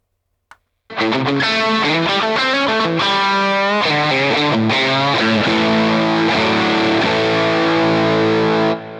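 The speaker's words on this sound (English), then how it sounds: "Now, lastly, patch number 5 is my fuzz tone." An electric guitar played through a Fuel Fuzz Berserk fuzz pedal rings out loud and heavily distorted in a sustained run of thick, buzzing notes and chords, alone with no voices.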